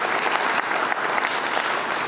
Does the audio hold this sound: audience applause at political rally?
yes